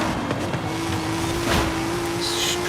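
Car drifting in the racing video game Forza Horizon 5, its engine holding a steady high drone under a broad tire-slide hiss that swells briefly midway, loud and close.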